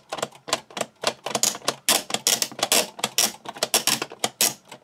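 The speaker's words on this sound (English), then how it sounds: "And the ratcheting mechanism will raise it up every time we pump the lever." A plastic Leonardo da Vinci model crane kit has its lever pumped, so the ratcheting mechanism gives a loud, close, rapid series of sharp clicks in quick rhythmic bursts, heard alone.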